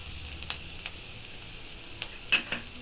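Onions sizzle steadily in a pan while turmeric powder goes in, with a few sharp spoon or utensil clinks over the constant close frying hiss.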